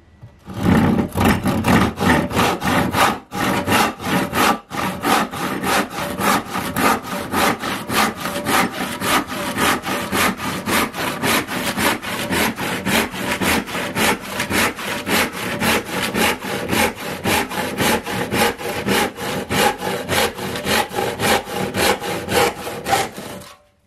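A hand saw cuts through wood in fast, even back-and-forth strokes, a rasping rhythmic scrape repeating steadily and loudly up close for the whole stretch, with no talking.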